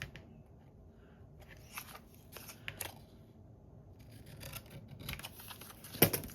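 Scissors cut through a sheet of 12 x 12 scrapbook paper in quiet, scattered snips and rustles, close and faint, with no one speaking.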